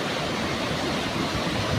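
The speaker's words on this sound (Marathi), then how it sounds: "धबधबा किती चांगला दिसतो" Randha waterfall roars in a dense, constant rush of falling water, loud and unbroken with no voices.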